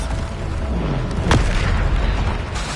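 A Bombarda spell blast in Hogwarts Legacy on PS5: one sharp, loud burst near the middle that rolls off into a low rumble, over a steady backdrop of noisy game effects.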